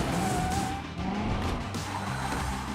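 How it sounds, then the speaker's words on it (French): Cartoon car tires screech loudly in a sustained skid, a continuous squealing rush with engine noise beneath, filling the whole short moment without any voices. "Ou fais crisser les pneus."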